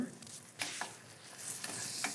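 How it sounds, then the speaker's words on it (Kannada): A tempering of oil with salt and turmeric fries in a pan, a soft steady sizzle punctuated by a few scraping stirs, fairly quiet and close with no voices. "ಎಣ್ಣೆಯಲ್ಲಿ ಫ್ರೈ ಆಗಬೇಕು, ಚೆನ್ನಾಗಿ ಫ್ರೈ ಆಗಬೇಕು"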